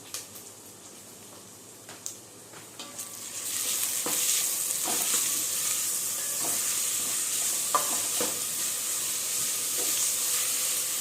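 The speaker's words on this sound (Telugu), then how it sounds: "రెండు స్పూన్లు వేసి పచ్చివాసన పోయేలాగా వేపుకోవాలి" Ginger garlic paste, two spoonfuls, hits a pan for prawn biryani: a few scraping stirs, then a steady loud sizzle and hiss that holds for several seconds with more stirring knocks, no talking.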